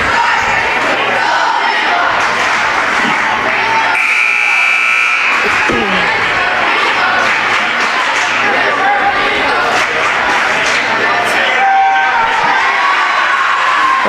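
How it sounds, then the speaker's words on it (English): Young cheerleaders chanting and cheering during a timeout at a school basketball game, a steady loud crowd din in a gym with voices shouting throughout and a buzzer-like tone around the middle. "we get to hear our little cheerleaders cheering"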